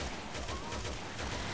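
Rapid, dense bursts of gunfire crackle nonstop in a continuous barrage, loud and close, in a Resident Evil 6 firefight.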